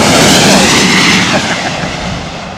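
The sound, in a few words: China Southern airliner flying over on arrival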